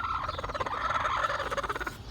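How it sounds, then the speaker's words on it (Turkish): A turkey in a poultry yard gives a rapid, pulsing gobble that runs continuously and fairly close for a couple of seconds. "Bakın kurt tavuğumuz şurada."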